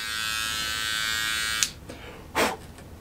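A GSI Mr. Hobby Mr. Polisher Pro smooths a seam line on a 3D print with a steady high electric whine, then cuts off abruptly, followed by a brief scraping burst as the tool touches the part.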